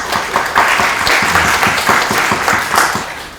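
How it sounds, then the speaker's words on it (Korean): Steady applause from an audience at an education participation committee discussion forum in Yeonggwang, many hands clapping continuously and fairly loud, a dense even patter with no talk over it. "박수 한번 해주시죠."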